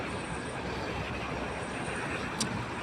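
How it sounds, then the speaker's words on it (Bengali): A steady, broad rumble of a train rolling past fills the whole stretch, with a brief high squeal near the end. "আর একটা ট্রেন চলে গেল"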